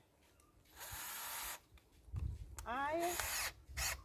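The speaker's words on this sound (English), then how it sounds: "I am gonna drill just below where the old one was" A power drill boring into a maple tree for sap tapping whirs in short bursts, its pitch shifting as it bores, with a brief voice speaking between the runs.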